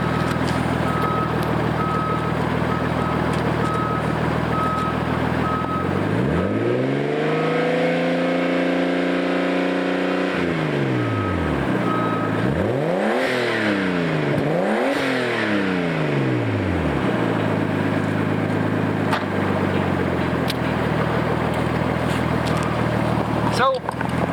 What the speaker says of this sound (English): That's what it sounds like with a big exhaust.